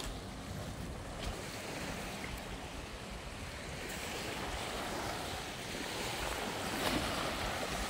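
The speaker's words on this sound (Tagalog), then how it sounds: "Lakas ng hangin dito guys." Strong wind blusters across a clean sandy beach by the sea in Iloilo, with beached boats nearby. It makes a constant roaring rush into the microphone, and faint surf blends underneath, swelling slightly toward the end.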